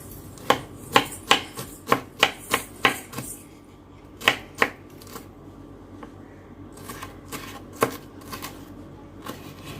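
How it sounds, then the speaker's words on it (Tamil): Leftover capsicum pieces get finely chopped with a knife on a board: a quick run of crisp, evenly spaced knocks, a brief pause, a couple more chops, then a few scattered softer taps, close and clear with no talk. "இந்த மாதிரி மீதி இருக்கிற பீசஸையும் நம்ம பொடியாக கட் பண்ணிக்கலாம்"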